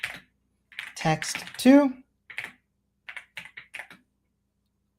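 Quick bursts of clicky computer keyboard typing sound close and dry, with pauses between runs of keystrokes, while a voice speaks briefly over the start.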